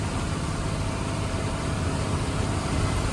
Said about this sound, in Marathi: नाही इलाजानं गाडी चालवायला लागलोय